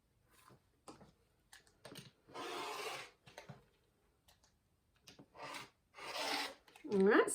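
Fabric fat quarter being cut into squares for quilting, with a series of short, dry rasping strokes in separate bursts, some longer, heard close up with no talking.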